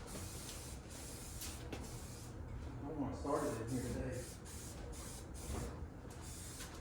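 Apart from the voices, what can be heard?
spraying glue from a spray can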